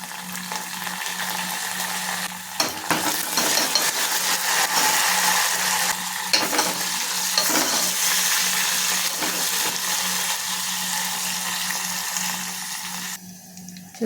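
Finely chopped onions and mustard seeds frying in a tempering for moong dal sambar, a continuous close sizzle with occasional stirring knocks and crackles throughout.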